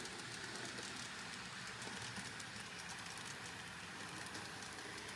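A model freight train rumbles steadily along with a continuous rattling hiss and faint clicking, running without pause throughout.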